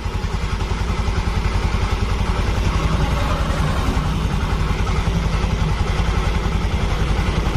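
A Honda Vario fuel-injected motor scooter engine idles steadily nearby, a smooth, even putter with a regular low pulse and no other sounds.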